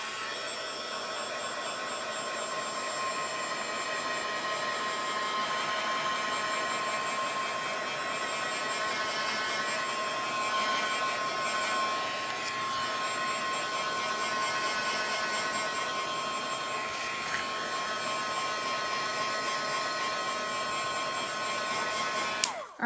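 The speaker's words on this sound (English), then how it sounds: "I'm going to give it a blast just to make sure that the ink is dry with my heat gun" A heat gun blowing steadily to dry ink before heat embossing, a loud close whooshing whine that holds unbroken for over twenty seconds and ends with a click, with no talk.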